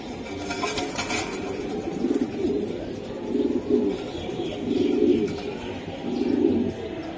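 Racing pigeons coo in low, repeated throaty phrases at close range, a steady rhythm of soft rolling calls from a loft full of birds.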